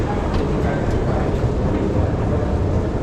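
A new MRT metro train on the Putrajaya–Sungai Buloh line in Malaysia rumbles steadily and loudly at close range with a continuous broadband roar, no talk.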